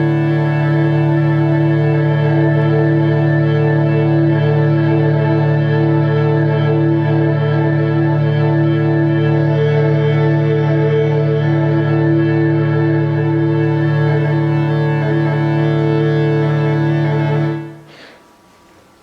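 Arturia MicroFreak synthesizer through the Bright Room effect of a Mackie ProFX10v3 mixer, a loud steady sustained drone with a roomy reverb wash that holds for about seventeen seconds and then cuts off abruptly, with no talk.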